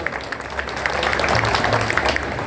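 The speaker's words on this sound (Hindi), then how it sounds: "एक बार जोरदार ताली बजा के भैया का हार्दिक स्वागत कीजिए, अभिनंदन कीजिए।" Audience applause welcoming an MLA at a Ramlila festival committee's flower Holi event in Vikhroli, a steady crowd clatter that swells slightly and holds throughout.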